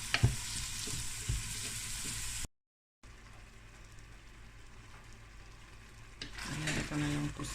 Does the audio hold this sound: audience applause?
no